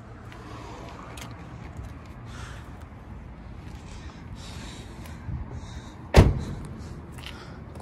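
A door on a 2001 BMW 740i E38 M-Sport 7 Series swings shut with a single solid, close thud near the end, after several seconds of quiet low rumble.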